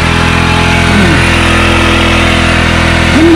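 A motorcycle engine with a failing carburetor runs loud and close, holding a rough, continuous drone with a slight wavering in pitch. No voices are heard over it.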